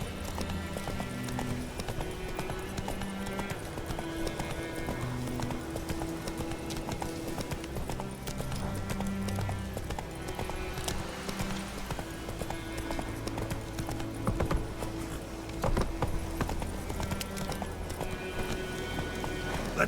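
Roach, a horse in The Witcher 3, gallops with a steady, rapid clip-clop of hooves that runs the whole stretch, set against a constant tonal music bed.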